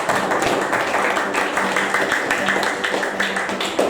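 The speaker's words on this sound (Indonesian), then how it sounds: "Sekali lagi tepuk tangan untuk kita semua" A classroom audience claps together for everyone at the close of a lesson, dense steady applause of many hands lasting throughout, loud and near.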